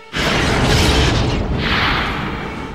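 A starship hull explodes in a Star Trek Generations film effect: a loud, sustained roaring boom that swells almost at once and rumbles on for a couple of seconds, with a second surge of blast partway through.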